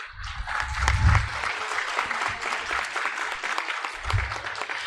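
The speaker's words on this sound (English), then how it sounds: "Give yourself a round of applause." Parents and families applauding at a school graduation ceremony, a warm burst of clapping across the hall that holds steady for several seconds, with low thumps and scattered voices mixed underneath.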